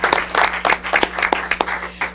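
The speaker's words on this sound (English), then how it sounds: "let's give him a round of applause" Applause at a city council regular meeting, a modest group clapping in a chamber with individual claps audible over a low steady hum, fading near the end.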